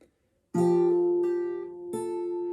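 An acoustic guitar plays a song's fingerpicked intro, three plucked note groups ringing out clearly and close, each attack letting notes sustain, with no talking.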